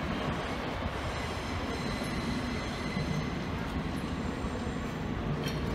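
A train moves through Amsterdam Centraal railway station with a continuous loud rumble of wheels on track, faint high squeals and clatter layered over it, steady for several seconds.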